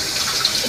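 Water runs steadily from a faucet into a kitchen sink full of unwashed breakfast dishes, a continuous soft hiss with no talk.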